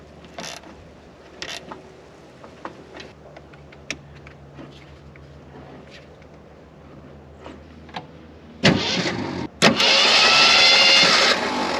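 A forgotten Jeep CJ5 that has sat for 16 years cranks over near the end, a loud, rough mechanical whir after several seconds of faint clicks and tool noises. It keeps spinning without firing.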